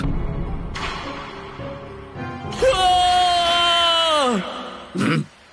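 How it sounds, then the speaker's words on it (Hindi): A cartoon boy lets out a long, loud drawn-out shout in the jungle that falls in pitch at the end. Other cartoon voices and sounds come before it. "मुझे जंगल से आपके बेटे के चिल्लाने की आवाज आई।"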